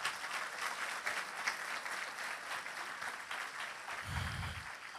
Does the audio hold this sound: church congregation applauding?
yes